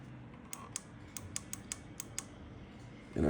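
The power button on a Clemas telescopic camping light is clicked about eight times in a quick, even series of sharp, close, quiet clicks, then a louder thump comes at the very end.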